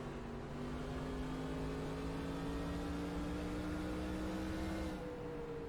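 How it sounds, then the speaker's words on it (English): A steady, droning NASCAR race car engine in the NASCAR Racing 2003 video game hums continuously with a gradually rising pitch, loud and close, with no voices. "now you can hear the engine I was talking about way back at the beginning of the race"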